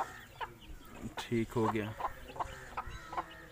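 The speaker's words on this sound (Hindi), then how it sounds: "1 मुर्गा और 3 मुर्गियां हैं इसमें।" A rooster and hens at a farm cluck in short, uneven bursts close by, with people talking over and between the calls.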